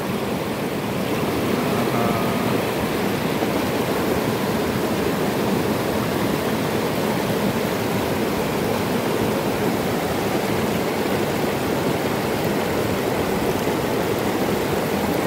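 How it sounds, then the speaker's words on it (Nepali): A large river in Seuti near Dharan rushes loudly and steadily, a dense continuous roar with stones rolling along the bed beneath the flow, with no pauses and no voices. "यत्रो ठुलो पानी बगिरहेछ"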